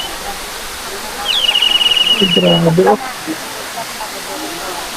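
Tumalong Falls, a waterfall in Cebu, gives a constant broadband rush of falling water. A person's brief exclamations rise over it midway.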